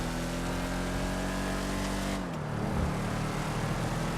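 Declasse Tulip muscle car in GTA 5: a steady, droning engine hum holds at a constant pitch, then drops and shifts with a change of revs before rising again into a rough, sustained roar.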